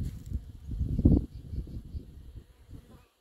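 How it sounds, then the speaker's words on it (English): Native bees buzz close by on a flowering redbud tree in a low, fluctuating drone that swells briefly and then fades away. "They are all over this redbud. All over. And most of these are the native honeybees. Or the native bees"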